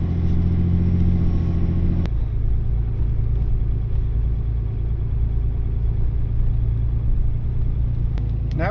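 Car engine rumbling steadily at low speed while reversing along a quiet street in Dunsmuir, California, a constant close drone with a brief click near the start and no voices.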